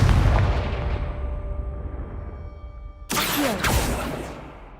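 A Confringo blasting spell explodes in Hogwarts Legacy, a loud booming burst with rumbling decay, then a second sharp blast with crackling debris that tails away; no voices.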